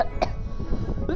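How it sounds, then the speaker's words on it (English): A person coughs twice in quick succession at the start and once more near the end, close and abrupt over a steady background of game sound. "My goodness, my cough."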